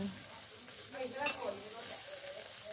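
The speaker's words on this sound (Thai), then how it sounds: "แล้วเราก็ใส่ไข่ลงไป" Eggs and long beans stir-fry in a hot pan with a steady sizzle, while a spatula scrapes and stirs through the whole stretch at an even, close level.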